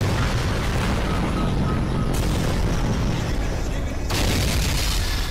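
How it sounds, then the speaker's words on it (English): Explosions in a Skibidi Toilet video, a dense, loud barrage of booms and blasts that run continuously with abrupt shifts in texture, booming loud throughout. "There's so many explosions."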